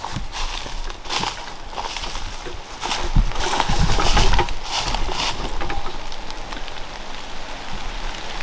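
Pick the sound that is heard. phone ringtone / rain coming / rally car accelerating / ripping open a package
rain coming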